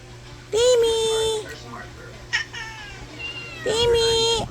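Small black kitten, newly adopted and named Timmy, meowing at home in a series of loud, high, drawn-out cries with pauses between them, close to the microphone over a faint steady hum.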